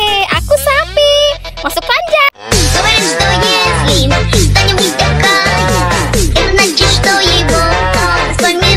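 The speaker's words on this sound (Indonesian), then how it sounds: "Lihat teman-teman, ada sapi, mantul." A cow moos amid busy music and voices, the long low calls mixed in with a loud, lively soundtrack.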